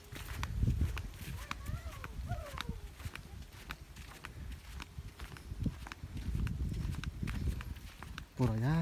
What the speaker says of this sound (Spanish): Por allá está un caballo solo